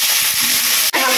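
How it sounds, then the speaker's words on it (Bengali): Rohu fish fat and whole spices fry in hot oil in a pan, giving a steady, loud, close sizzle with a brief dip near the end. "হালকা করে একটু ভেজে নিলাম"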